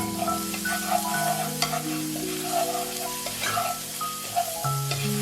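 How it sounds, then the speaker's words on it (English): Minced garlic, ginger and Thai chili sizzling in hot oil in a pan, a steady close crackle and spatter with soft stirring scrapes throughout, no voices. "Once the oil is hot, add the minced garlic, ginger, and Thai chili if you're using it."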